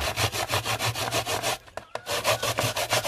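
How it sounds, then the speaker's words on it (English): Coconut grated by hand for a country-style rundown, a rapid rhythmic scraping of repeated rasping strokes up close, briefly pausing near the middle before resuming at the same steady pace. "Grating the coconut now, then I'm gonna juice it, okay?"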